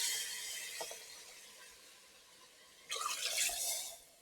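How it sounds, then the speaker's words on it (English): Water pours into a pot of cow foot meat for Jamaican curry cow foot; a faint trickle runs at first, then a louder splashing pour starts near the end, close by with no talk. "I'm going to add some water now."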